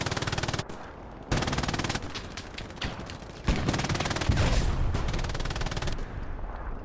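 Video game machine gun fire in a competitive match, long rapid bursts of automatic shots that stop and start in uneven stretches, loud and continuous with brief pauses between volleys.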